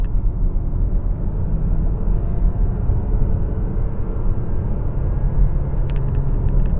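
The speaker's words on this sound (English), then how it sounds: "So, just want to try and demonstrate how quiet it is for a diesel. So this is third gear." Porsche Macan S Diesel engine pulling in third gear, a steady low rumble of drivetrain and road noise from inside the cabin, continuous and fairly loud with no talking.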